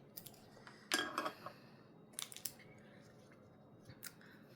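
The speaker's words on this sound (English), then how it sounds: "I'm gonna use these little scissors because they seem like a little bit easier for the inside." Small scissors snip a few times in quick, crisp clusters, cutting a craft hibiscus lei, close and quiet against a faint background hiss.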